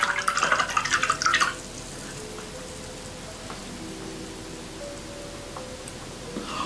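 A synthetic paintbrush is swished and rinsed in a pot of water for watercolour painting, a close splashy trickle lasting over a second, then faint drips and small clinks in a quiet room.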